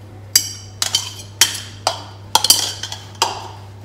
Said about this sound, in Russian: Все хорошенько смешиваю до однородной массы